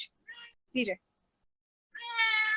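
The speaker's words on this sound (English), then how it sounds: "So this is Dapper Cat, everybody." A cat meows several times up close, short calls followed by a longer drawn-out meow, with brief silences between them.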